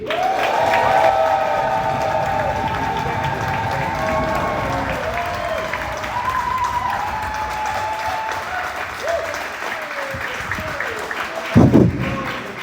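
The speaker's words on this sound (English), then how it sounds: "Give it up for Khairy Creek." Loud, sustained applause and cheering from a comedy club audience, dense clapping with whoops throughout, tapering slightly toward the end with a brief louder burst near the close.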